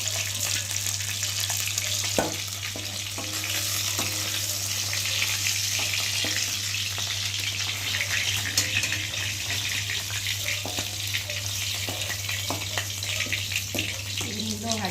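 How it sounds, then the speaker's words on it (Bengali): Rohu fish pieces fry in hot oil with a continuous close sizzle and crackle, occasional utensil knocks and a steady hum beneath, no clear talk. "যে মাছগুলো রয়েছে কয়েকটি সেগুলো আবার একটু ভেজে নেব"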